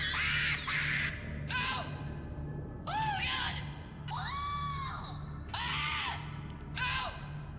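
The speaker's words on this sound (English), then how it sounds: "You click on it, bobble head goes, and you get to listen to Mark scream." A Markiplier bobblehead in the video game Subnautica screams when clicked, heard as several repeated squawking yells with echoey pitch swoops over a steady background hum, each burst lasting around a second.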